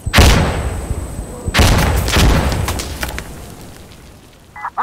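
AK-47 gunfire in the video game Insurgency Sandstorm: two loud, close, booming shots with long echoing tails that fade out, then a faint click near the end.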